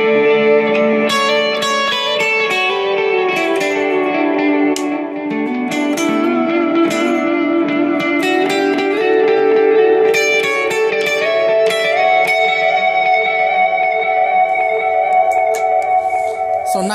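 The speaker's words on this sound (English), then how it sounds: "the one I have sitting in the middle is the space delay, and that one has like a nice like echo kind of sound" An electric guitar played through a space delay pedal rings out in a melodic line, each note trailing into repeating echoes that hang and overlap for a spacious, wash-like sustain throughout.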